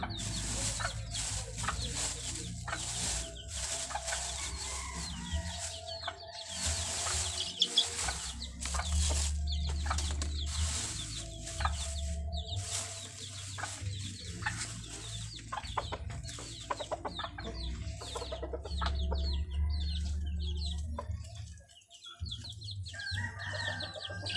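White gold chickens crossed with kanawa cluck and crow steadily in a backyard flock, overlapping calls near and far with a rooster crowing among them, no talking.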